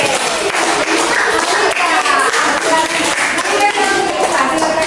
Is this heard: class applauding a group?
yes